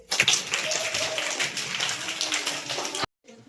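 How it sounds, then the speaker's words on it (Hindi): A group of children at a school fair claps together in a dense, continuous burst of applause, fairly close and lively, with voices mixed in, then stopping abruptly near the end. "ताली बजाओ इसके लिए"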